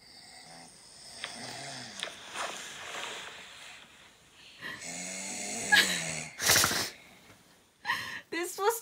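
A person snores in a rough, rasping rhythm, played back as a recording in a home, with several ragged breaths at moderate volume and other noises near the end; voices talk around it.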